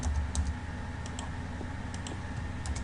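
Quick keystrokes on a computer keyboard while writing C# code, including Enter presses and a Ctrl+V paste: close, light clicks in small irregular bursts against a quiet room hum.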